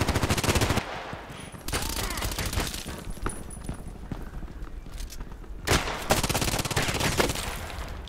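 Revolver fire from a Colt Python Elite in the online shooter Contract Wars, with several sharp game shots breaking through dense, busy in-game noise and other gunfire, a couple of louder bursts standing out.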